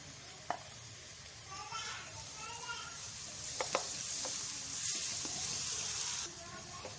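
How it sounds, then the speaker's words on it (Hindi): Ginger garlic paste frying with golden onions in a pan, heard as a soft, continuous sizzle with occasional stirring clinks and a brief voice in the middle. "प्याज हमारा गोल्डन हो गया है। अब हम इसमें डाल देते हैं अदरक और लहसुन का पेस्ट।"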